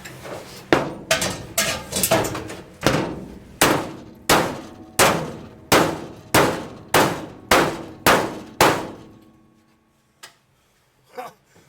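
About fourteen heavy metallic strikes of a brass hammer on a steel wedge ring out at a steady pace, each with a short clanging decay, followed by a couple of quieter knocks.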